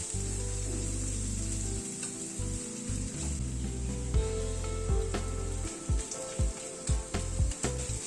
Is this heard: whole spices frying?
yes